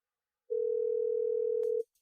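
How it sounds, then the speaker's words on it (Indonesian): A steady telephone dial tone sounds alone for just over a second, a single clean continuous tone that cuts off abruptly, with a faint click near its end. "Harus aku telepon Lia untuk cek sendiri"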